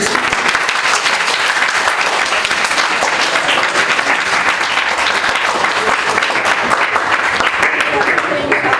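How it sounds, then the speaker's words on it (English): A workshop audience gives loud, sustained applause, a close and dense wash of many hands clapping that holds steady for almost nine seconds. "Let's give a huge round of applause for our"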